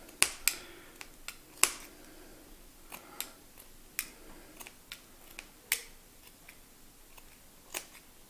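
Scissors snip through T-shirt fabric in sharp, irregular clicks, about a dozen close, quiet cuts spaced unevenly, with no talking.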